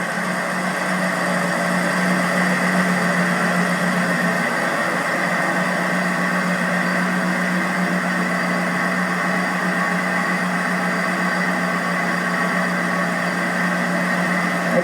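A 2004 Ford Mustang Terminator Cobra with 12k miles, in Competition Orange, idles steadily and smoothly up close, a constant engine hum with no ticking and no voices over it.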